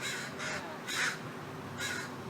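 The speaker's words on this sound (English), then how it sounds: "And there's a hurt crow over there." An injured crow caws four times outdoors, harsh, moderately close calls spaced irregularly over faint background noise.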